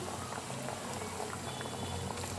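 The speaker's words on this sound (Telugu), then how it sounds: "ఇలా మీడియం ఫ్లేమ్లోనే ఫ్రై చేసుకోండి" Corn vada made from sweet corn frying in hot oil over a medium flame, a steady close bubbling sizzle with scattered soft pops running throughout, with no talking.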